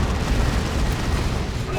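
A heavy cannon fires and its shells explode in a Dawn of War 2 multiplayer battle, a dense rumbling boom with low blasts rolling together over a short span, loud and close, mixed with game noise.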